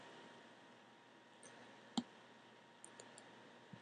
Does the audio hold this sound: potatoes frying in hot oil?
no